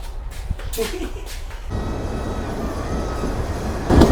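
A local train on the Lalmonirhat to Burimari line rumbles steadily along the tracks with a low, continuous roar and some rattling, a few short voices and knocks early on.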